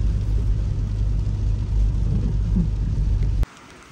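Dense, steady rain drums heavily with a low rumbling undertone, then cuts off abruptly near the end.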